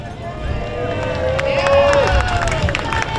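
A crowd cheers and claps for the Blackwater Community School Pep Squad at a veterans' tribute gathering in Ira Hayes' hometown, a broad swell of voices under an announcer's amplified speech.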